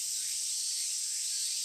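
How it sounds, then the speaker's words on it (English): Cicadas in summer heat in the Tsukihime game keep up a dense, continuous high-pitched shrilling, steady and unbroken throughout with nothing else beneath it. "The air shimmers with heat, and the keening of cicadas eats at me."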